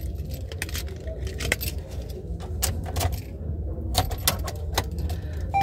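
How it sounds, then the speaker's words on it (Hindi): A car key jangles on its ring and clicks into the ignition of a 2024 Maruti Suzuki Baleno, a base Sigma variant in Nexa Blue, with loud, close metallic rattles and sharp clicks throughout. "चाबी लगा के एक बार चेक कर लेते हैं।"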